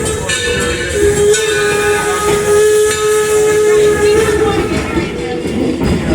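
A steam locomotive at a heritage village sounds a long, loud, steady whistle, its tone held for several seconds over heavy hissing steam and the rumble of the train.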